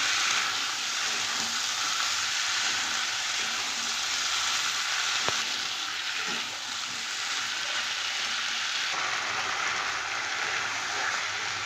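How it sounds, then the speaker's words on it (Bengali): Potatoes and green peas sizzling and being stirred in a pan, a steady, dense frying hiss that holds close and even throughout, with a faint scrape or two and no voices. "এবার আমি আলু আর মটরশুঁটিটা দিয়ে দেব। ভালো করে নেড়ে চেড়ে নেব।"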